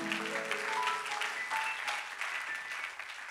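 A church congregation claps and applauds during a sermon, a dense steady patter of many hands for a few seconds with some scattered voices mixed in.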